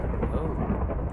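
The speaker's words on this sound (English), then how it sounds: "Oh, I heard thunder." Minecraft thunder in a savanna biome, a steady low rumble rolling on without a break, moderately loud and dense.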